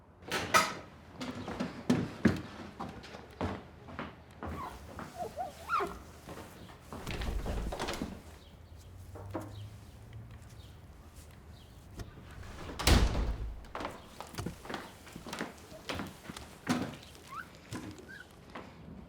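A door creaks, rattles and thuds through a run of sharp knocks and handling noises, some loud and close, with quieter shuffling in between.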